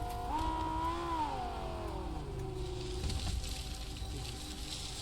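Two cars in the survival game Rust drive past with a rising then falling engine note, loud at first and fading into a steady background hum.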